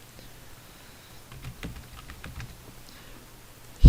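Keys clack on a computer keyboard as a password is typed for a new Gmail account, a loose run of quiet, scattered taps with a faint background hum and a sharp click at the very end.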